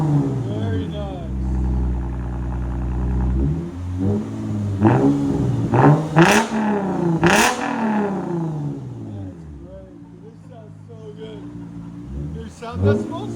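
A Lexus RC 350 with a 3.5L V6 and a muffler-delete exhaust idles, then revs in several quick, loud bursts before settling back to idle as people talk over it.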